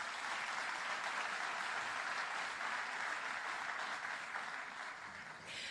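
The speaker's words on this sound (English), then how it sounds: "A round of applause for them all," An audience at a diaspora conference in Jamaica applauds the event's official partners, a dense, even wash of clapping that holds steady for several seconds before easing slightly at the end.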